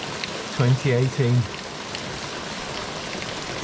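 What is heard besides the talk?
torrential rain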